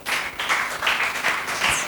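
Children in a Bible school devotion class clap together in quick, uneven bursts of applause, close and lively throughout.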